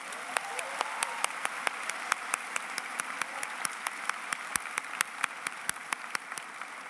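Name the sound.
commencement audience applause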